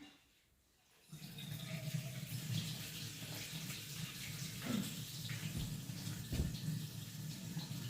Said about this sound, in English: I'm just going to drain these in here gently